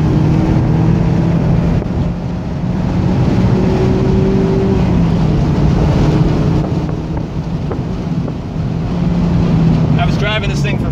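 Mazda ND MX5 Miata cabin at speed, with steady road and engine drone, wind rush and a faint thump as the car rolls over a bump and turns, continuous and fairly loud.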